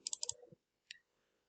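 A computer mouse is double-clicked to open Windows Explorer: a quick run of crisp, close clicks, then one more sharp click a moment later, quiet and with no talking.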